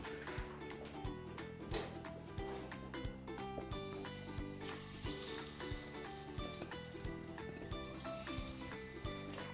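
Oil sizzles steadily as mutton is deep fried for biriyani, a faint hiss running under louder rhythmic music throughout.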